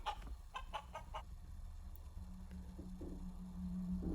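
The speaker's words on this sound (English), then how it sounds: "chicken।" A chicken clucks in a quick burst of several short, fairly close calls, then lower murmuring clucks and a sustained tone follow, with no talking.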